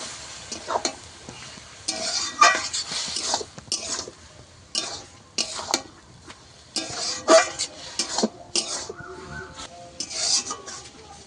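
Bottle gourd is stirred into fried shrimp with cumin in a pan, giving repeated scraping and stirring strokes over a soft sizzle, irregular and close.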